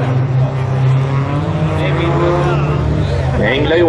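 Bilcross race cars roar off the start line at a women's final of the NGK Masters, a dense, loud engine drone over crowd noise, with a commentator talking throughout.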